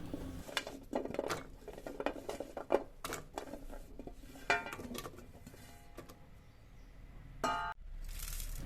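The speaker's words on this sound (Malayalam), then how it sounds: "ഇതാ കുക്കറിലേക്ക് മാങ്ങ എല്ലാം ചേർത്ത് കൊടുക്കുന്നുണ്ട്" Raw green mango pieces tumble into a pressure cooker in a home kitchen, making scattered clinks, taps and clatters of metal and utensils, quiet and irregular, with no talking.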